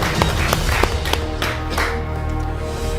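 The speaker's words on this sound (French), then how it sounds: "On l'applaudit très très fort." Studio audience claps for a contestant on a TV game show, with rhythmic applause and a steady musical bed beneath it.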